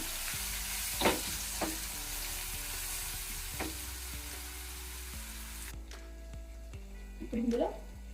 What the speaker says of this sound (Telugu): ఇవన్నీ వేసి కలిపేసుకొని పచ్చి వాసన పోయే వరకు వీటిని ఫ్రై చేసుకోవాలి.